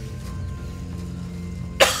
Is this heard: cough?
yes